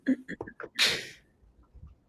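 A single sharp sneeze bursts out after a few quick breaths during a live talk show, close and loud, then fades into quiet.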